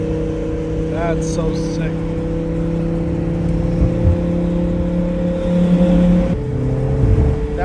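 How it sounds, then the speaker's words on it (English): A twin-turbo Lamborghini Huracan holds a loud, steady engine drone with high turbo whistling and whooshing laid over it, close by, while a voice speaks briefly over the noise. "Dude, you can hear the turbos from freaking here."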